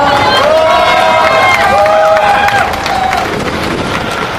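A crowd at a Busan campaign rally cheers and claps loudly for a Seoul National University professor, shouts and whoops rising over sustained applause before easing slightly toward the end.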